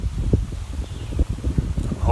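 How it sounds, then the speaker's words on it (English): Wind gusting outdoors, buffeting the microphone in low rumbling bursts with soft rustling, steady and close throughout the short stretch. "as soon as you hit record, anybody who films videos knows that that's when the wind picks up"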